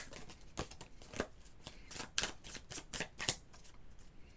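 Cutting and shuffling a tarot deck produces a run of quick, soft card riffles and slaps, fairly faint and close, each followed by a brief pause.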